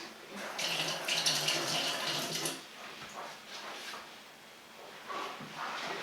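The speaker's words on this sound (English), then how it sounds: "then we're going to rinse the stirring rod in order to do the next test" Running tap water rinses a glass stirring rod at a lab sink, a close splashing gush for a couple of seconds that gives way to quieter trickles and soft handling clatter.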